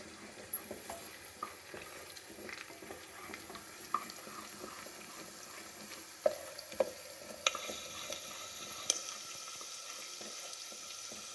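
Green chillies and pepper frying in hot oil for Kaara Pongal, a soft, steady sizzle with scattered crackles and a few sharper pops and utensil clinks, quiet and close with no voices.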